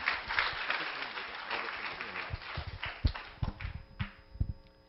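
Scattered clapping from a seminar audience at a Korean labor ministry discussion forum on skilled technicians, welcoming a research scientist to the stage; sparse, uneven claps, moderately close, with some thuds and shuffling.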